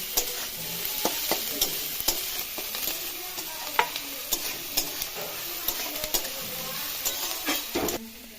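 Chopped onions fry and sizzle in a pan for a village-style pitha filling, with a steady hiss and repeated sharp scrapes and clinks as a spoon stirs them, close and fairly loud, with no voices.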